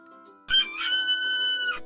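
A single rooster crow rings out, bright and strained, held for over a second before breaking off, fairly close with quiet surroundings.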